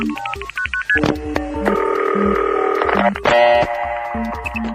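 Rapid sequences of telephone dialing tones, multi-frequency beeps and sustained steady tones switch on and off on a phone line, loud and clear and sounding alone.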